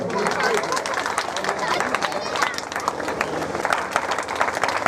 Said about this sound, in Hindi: आप लोग इनके सम्मान में ताली तो बजाइए